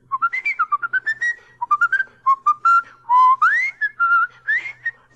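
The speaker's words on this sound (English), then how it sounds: "Now you're going to whistle the tune with me like this." A person whistles a bouncy tune solo, with short rising and falling phrases, several sustained notes and brief pauses, clear and close with no voices over it.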